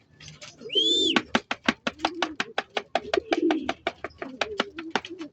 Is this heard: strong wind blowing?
no